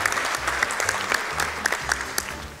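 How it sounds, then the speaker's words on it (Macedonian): Steady applause from the audience at a Macedonian cooking competition show, a dense wash of many hands clapping evenly throughout at moderate volume, with no talk over it. "Аплауз ќе ве молам."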